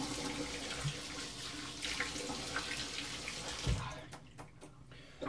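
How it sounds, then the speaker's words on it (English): Water runs steadily from a sink tap during face rinsing after a shave, a continuous close splashing hiss that thins out near the end with a few drips and clatters. "I'm gonna go ahead and rinse off my face and get ready for the second pass."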